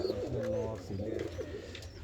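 Fancy pigeons at a pigeon farm, several close, soft rolling coos repeating over a low background hum.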